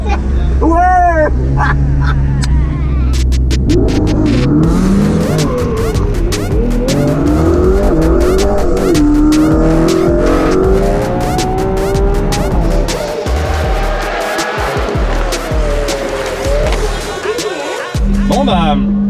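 Suzuki SV motorcycle accelerating hard from a clutch launch, loud close engine roar sweeping up in pitch through repeated gear changes, with wind rush and a voice talking over it.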